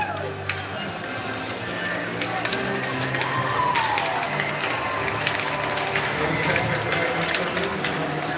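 Hockey arena crowd at a Fargo versus Muskies game, a steady roar of cheering and wooing that holds throughout with a rising whoop partway in, loud and continuous.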